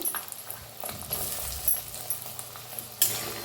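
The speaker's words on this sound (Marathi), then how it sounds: "हलवून त्याला बी छान असं भाजून घेऊया" Chopped tomato and green garlic stalks are stirred and fried in a pan for a Sankranti dish, making a quiet sizzle with soft scraping stirs and a sharp utensil clink near the end.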